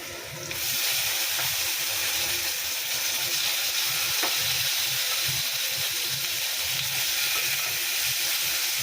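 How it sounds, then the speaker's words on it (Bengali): Potatoes frying with salt and turmeric powder in a pan, a steady close sizzle and hiss that runs unbroken, with a faint scrape or two of stirring. "একটু হলদে গুঁড়ো দিয়ে এটা আলুটা ভাজছি"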